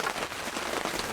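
Heavy rain drums steadily on a cabin, a dense constant patter close by with no gaps.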